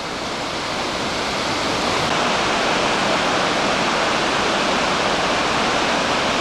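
A river waterfall on a Scottish river rushes in a loud, steady, broadband roar that holds unchanged from start to finish with no voices.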